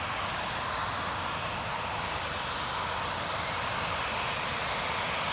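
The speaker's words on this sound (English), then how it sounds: "the EasyJet's just about to line up now into runway 25" An easyJet jet lining up on runway 25 at Newcastle gives a steady, broadband engine roar held at an even level throughout, with no voices.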